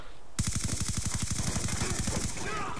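Sustained automatic gunfire in Black Ops 2 starts abruptly and hammers out a long, loud, evenly spaced stream of shots, fast rattling bursts that continue for over two seconds.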